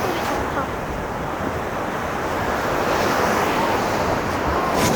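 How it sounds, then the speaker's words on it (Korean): Ocean surf rolls in at Busan with a continuous loud wash, wind buffeting the microphone over the steady roar of waves. "바다 소리"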